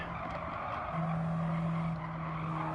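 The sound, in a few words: '72 Alpine A110 engine and tires in video game Gran Turismo 7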